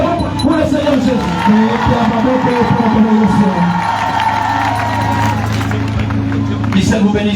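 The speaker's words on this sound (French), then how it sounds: "Acclamons pour le Seigneur Jésus." A church congregation applauds and cheers in a steady, loud wash of crowd noise that lasts throughout, with a voice speaking over it.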